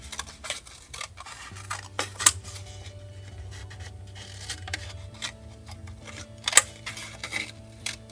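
Scissors cut thick paper for a pop-up card in a string of close, crisp snips and clicks at irregular intervals over a low steady hum, no talking.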